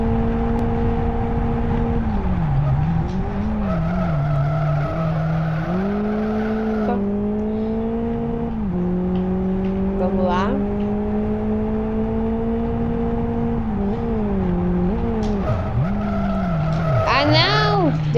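A Toyota AE86 with a turbo drifting through track corners in Live For Speed, its engine droning and wavering steadily while tires squeal and skid almost continuously, loud and close throughout with no pauses.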